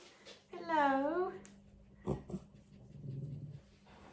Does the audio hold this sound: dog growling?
yes